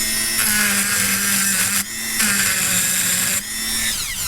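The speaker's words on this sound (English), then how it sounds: "so I'm going to do the Dremel again" A Dremel rotary tool cuts into a twist fitting on a coolant hose of an FZJ80 Land Cruiser, a steady, loud, high whine that dips briefly twice as the bit bites and lets off.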